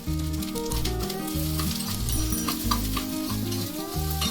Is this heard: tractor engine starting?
no